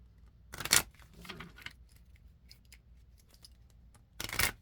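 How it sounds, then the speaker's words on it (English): Tarot cards are shuffled in two short, crisp bursts of riffling, one near the start and one at the end, separated by quieter handling noises and no talk. "I'm shuffling the other half of my cards."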